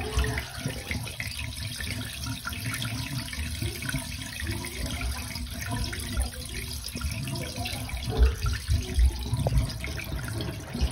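Water drains from a ZENY portable washing machine in a steady, continuous gush and trickle, with a few louder sloshing surges near the end and no voices.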